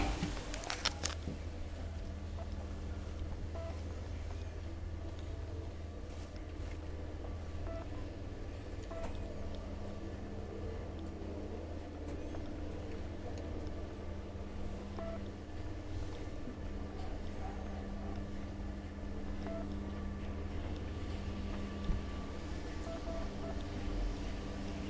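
An old Kone traction elevator in a Kirstinharju apartment building in Espoo, Finland, runs with a steady low machine hum and drone, plus faint clicks and small mechanical knocks throughout, with no talking.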